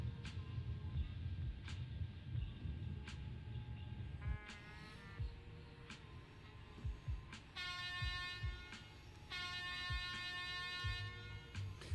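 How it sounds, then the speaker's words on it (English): A long double-headed train running on the LGV Méditerranée high-speed line in Train Sim World 2, with a steady low rumble throughout and bursts of bright horn or warning tones rising over it. "That's a very long train."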